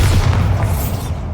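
Bombarda spell blast in Hogwarts Legacy, a loud, deep booming explosion with a heavy low rumble that fades over about a second.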